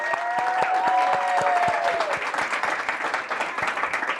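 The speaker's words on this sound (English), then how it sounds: "Can we get a big round of applause for her?" Summit audience breaking into loud, sustained applause, dense clapping throughout with a brief whistle-like tone early on and no speech over it.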